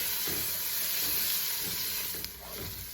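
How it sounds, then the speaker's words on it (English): Chopped onion sizzles steadily in browned butter over medium heat, a close, continuous frying crackle with faint stirring scrapes and a brief sharper clink near the end. "Once that melted butter starts to brown, we're going to stir in our chopped onion"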